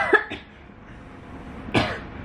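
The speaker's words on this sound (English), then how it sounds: "Just had a little cough attack." A few harsh coughs up close, two quick ones followed by a louder single cough after a short pause, with no talking.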